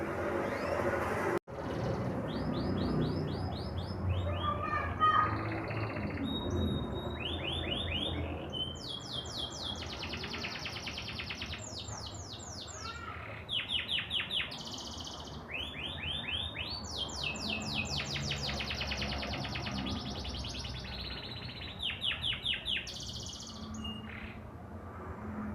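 A canary sings alone in long continuous phrases of rapid trills, rolling tours and sharp chirps, bright and close, with brief pauses between bursts over a faint background hum.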